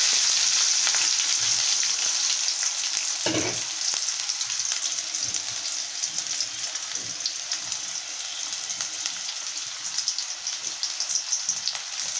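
Chopped onion pieces hitting hot oil in a pan for a spicy Rayalaseema-style dish, a dense bright sizzle running steadily throughout with a few soft thuds of stirring.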